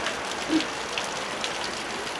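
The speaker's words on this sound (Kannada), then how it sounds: "ಮಳೆ ಹೊಡಿತಾ ಇದೆ" Heavy rain pours down at a hilltop bus stand near a temple, a dense, continuous hiss of drops striking surfaces with no voices.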